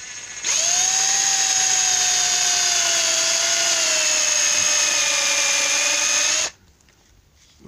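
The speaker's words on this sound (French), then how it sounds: "Et c'est parti, je perce." An electric drill boring through a cork fishing float, a steady loud high-pitched whine holding for about six seconds before cutting off abruptly, followed by near silence.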